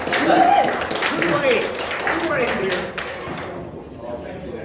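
An outdoor crowd at a political event, a lakeside Low Country boil, gives brief applause: scattered clapping and cheers that fade out toward the end, with voices over it.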